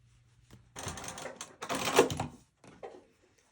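A sewing machine fitted with a zipper foot stitches layers of fabric together, running in two short bursts of rapid mechanical clatter with a brief pause between them, close and fairly loud, with no talking.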